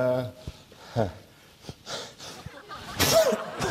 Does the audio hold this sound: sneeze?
yes